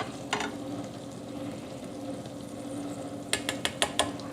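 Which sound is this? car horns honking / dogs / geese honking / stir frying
stir frying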